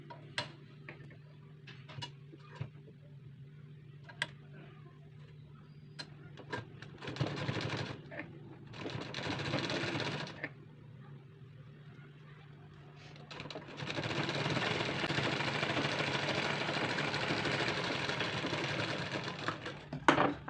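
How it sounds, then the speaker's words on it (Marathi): A domestic sewing machine stitches along the inside fold of a garment sleeve. It runs in two sustained bursts, one short and one longer, separated by pauses that are punctuated by small ticks and clicks from handling the fabric, with no talking. "आतून शिलाई मारायची आहे."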